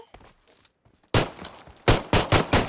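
Rapid video game gunfire: a few quiet pops first, then loud bursts of automatic fire, sharp and close, in quick clusters of shots with brief gaps between them.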